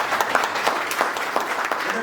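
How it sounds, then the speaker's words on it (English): Audience applause at a summer workshop recital and awarding ceremony: dense, steady clapping from a crowd filling the room, loud and continuous throughout, with no speech over it. "Let's give them a round of applause."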